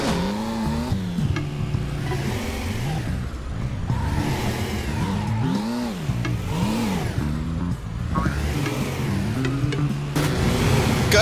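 Cars drive across ice platforms in the video game Roundabout, loud engine tones sweeping up and down in pitch as vehicles pass and rev, continuous and close, with no talking.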